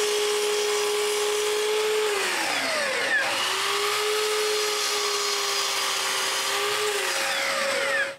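A mitre saw spins at a steady high whine and cuts through wood, its pitch dipping under load during each cut, loud and close throughout with no voices.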